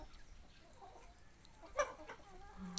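A single short cluck from a rooster rings out faintly against quiet background noise, followed by a few softer scattered sounds.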